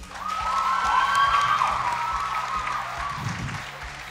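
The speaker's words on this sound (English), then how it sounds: "I'd like to tell Nyeri High I have one word for you. You're giants. Let's applaud them." Students and audience applaud the Nyeri High debaters after a school debate final, with clapping and some cheering and shouts that swell early and then ease off.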